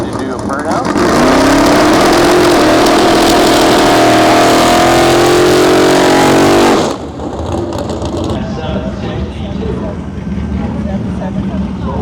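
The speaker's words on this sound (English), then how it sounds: "Rick Davies down at Corona in the 78 Camaro, ready to do a burnout." Loud, sustained engine roar from a 1978 Camaro drag car doing a burnout at a drag strip, with harmonic revving tones rising and holding for about six seconds, then cutting off abruptly to quieter track ambience and a faint voice.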